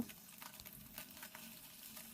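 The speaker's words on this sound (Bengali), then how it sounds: "আমার মাছ ভাজা শেষ দুই পাশেই খুব ভালো করে ভাজা হয়ে গেছে" Puti fish fry in a pan, giving a soft, even sizzle with light crackles, faint and close.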